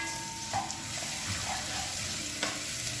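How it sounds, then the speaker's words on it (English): Garlic ginger paste sizzles in a pan with golden brown onions, a steady frying hiss with a couple of faint clinks of a spoon against the pan. "When the onions turn golden brown, we add in our garlic ginger paste."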